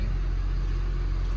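A 2012 Ford F350 Crew Cab 4x4 with a 6.7L diesel and 51,000 miles idles just after start-up, giving a steady, smooth low rumble close by.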